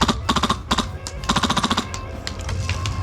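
Rapid bursts of airsoft rifle gunfire during a game, several quick volleys of sharp shots close by, with a pause and then more steady firing near the end.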